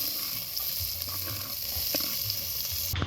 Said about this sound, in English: we are going to saute the onions